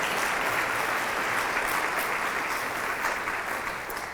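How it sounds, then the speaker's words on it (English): Sustained audience applause fills an awards banquet hall for several seconds, a dense steady wash of many hands clapping with no voices on top. "a round of applause for those folks that did all the work to put this together for you"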